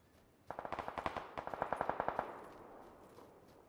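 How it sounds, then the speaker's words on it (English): Bursts of rapid automatic gunfire in PUBG, two quick strings of a dozen-odd sharp shots each, fairly faint and alone, trailing off into quiet. "It's a lot of shooting."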